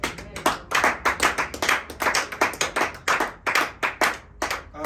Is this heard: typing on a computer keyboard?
no